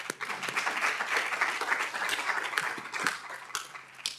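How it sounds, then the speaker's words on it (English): Sustained, dense applause from an audience at a cancer research panel, steady and fairly loud throughout without any talk over it. "So let's clap for them too."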